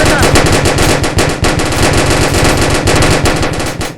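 Rapid automatic gunfire rattles in a Roblox shooter, loud and close, a dense unbroken stream of shots with brief gaps.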